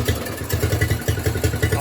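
A Craftsman walk-behind lawn mower with a crusty carburetor idling nearby, its small engine putting out a steady, fast, even chugging pulse at low speed.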